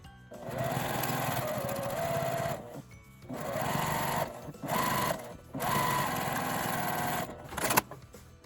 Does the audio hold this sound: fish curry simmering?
no